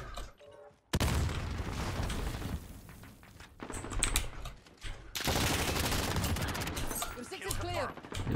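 Gunfire from the video game Call of Duty Modern Warfare, with loud bursts of shots and booms filling most of the clip alongside battle noise.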